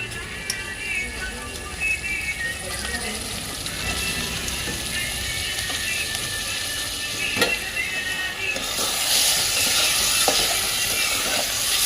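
Half a kilo of cleaned goat liver sizzles and fries steadily in a pan for Telangana-style liver fry, with occasional stirring scrapes, growing louder and more hissing toward the end; no talking.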